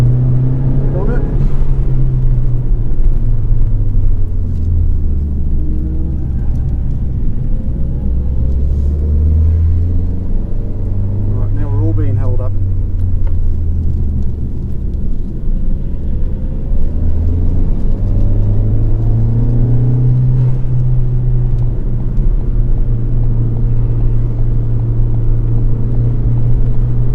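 Ford Fiesta ST on a track day lap, engine droning and rising under acceleration with steady low rumble throughout, loud and close from inside the car while a person talks over it.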